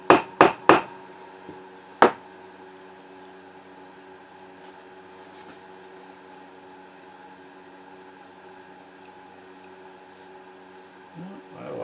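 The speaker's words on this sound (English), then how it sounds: "and start tapping the pin" A thin hammer taps a pin out of a Vz.50 pistol slide, three quick sharp metallic strikes followed by a lone louder tap, then a quiet hum of room noise with faint clicks.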